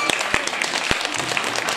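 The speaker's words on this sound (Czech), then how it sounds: "já bych teď přivítala speciální hosta tohoto večera za velkého potlesku." Audience applause at a travesti drag show in Club Knak, Teplice, welcoming a special guest: dense, steady clapping from a crowd, fairly close, with a few sharper individual claps standing out.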